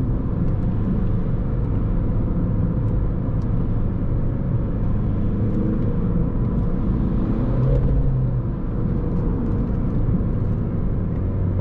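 Steady engine drone and road rumble inside a VW Polo V 1.6 TDI 90 HP with a 7-speed DSG gearbox while driving, a continuous low hum and tire noise throughout with no speech.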